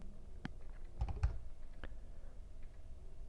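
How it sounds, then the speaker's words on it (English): Someone types a short code on a computer keyboard, a handful of close, crisp key taps in an irregular burst with a cluster in the middle, over a quiet room and no talk. "I'm going to type DUR"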